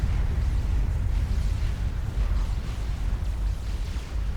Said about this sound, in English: There's a great big explosion.